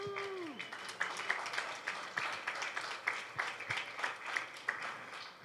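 Audience at a district candidate forum applauding as the candidates are introduced, a modest, scattered round of clapping from a small crowd, fairly faint and fading out after a few seconds.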